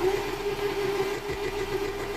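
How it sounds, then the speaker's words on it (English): Racing car engine in a simulator game, held at high revs with a steady droning tone and slight fluctuations where it sits against the rev limiter, continuous and fairly loud. "Popping off the rev limiter with that."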